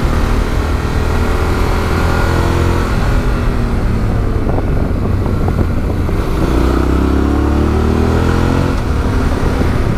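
A Yamaha Ténéré 700 motorcycle engine hums loudly and steadily in third gear on a winding mountain road, with rising and falling revs and constant wind rush, close up and unbroken.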